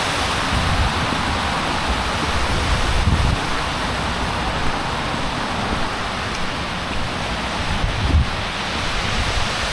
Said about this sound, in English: down there is a very deep valley with the water rushing through it